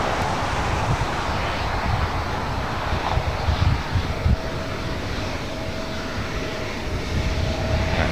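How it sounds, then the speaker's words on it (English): A Southwest Airlines Boeing 737-800 jet arriving at LAX makes a steady, broad engine roar with rushing wind noise throughout. A faint whine is also audible. "That was Southwest Airlines flight 2111 coming in from Chicago Midway, 737-800."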